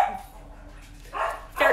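Dogs indoors give a couple of short barks and yips, one brief burst near the start and two more toward the end, moderately close with quiet pauses between.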